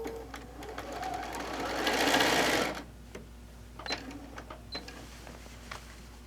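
A sewing machine stitches a quilt, running in a steady whirring burst that swells loudest in the middle, then gives way to a few faint clicks and taps nearby.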